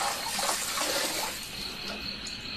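Water runs steadily from a tap, a continuous hissing splash that stays even and close throughout, with no voices over it.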